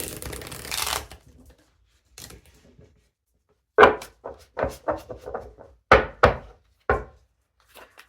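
Tarot cards being shuffled by hand, a brief riffle at the start followed by a series of separate soft slaps and taps as the deck is handled, close and quiet with no talking.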